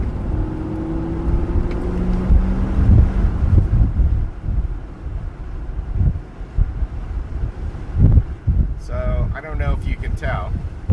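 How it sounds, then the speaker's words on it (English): Roof-rack wind noise on a Land Cruiser 100 Series fitted with a Frontrunner Slimline II rack, a constant rushing roar under engine and road rumble inside the moving vehicle, with a voice speaking near the end. "There's definitely some wind noise."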